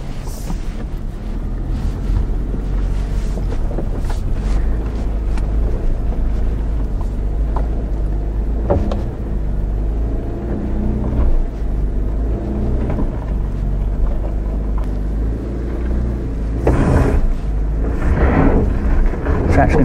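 Subaru Outback Wilderness engine straining as it climbs a steep off-road grade, a steady low drone with wind buffeting the microphone and occasional louder surges near the end, with a person talking over it.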